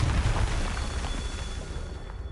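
Confringo fire spell exploding in Hogwarts Legacy, a deep rumbling blast with a heavy low boom at the start that slowly fades into a crackling roar.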